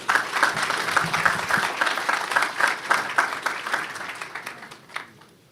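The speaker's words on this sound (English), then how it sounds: "One more round of applause, please, for President Mike Sucko." A crowd applauds at a press event previewing the Alabama A&M versus Alabama State Magic City Classic football game, a lively burst of many hands clapping that gradually thins and fades out.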